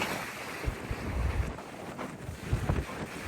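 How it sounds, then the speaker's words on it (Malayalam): A gill-net fishing boat speeding over waves at sea, with rumbling wind buffeting the microphone and low thumps as the hull hits the swell. "നമ്മുടെ ഗിൽനെറ്റ് ബോട്ട് അടുത്ത സ്ഥലത്തേക്ക് കുതിച്ചോടിക്കൊണ്ടിരിക്കുകയാണ്"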